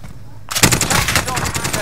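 Rapid automatic gunfire in Call of Duty Warzone on Rebirth Island, a loud burst of close shots starting abruptly and continuing in a fast rhythmic stream after a quiet moment.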